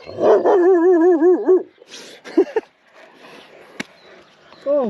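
Dogs rush up close from behind and bark at a walker outdoors: a whining, yelping bark first, then a few sharper barks and scuffling, loud and near, with no talk.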